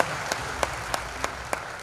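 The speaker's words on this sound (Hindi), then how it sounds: "सब लोग ताली बजाओ" Sparse, slow claps ring out at a political rally, about six distinct hand claps at a steady interval over a low background murmur.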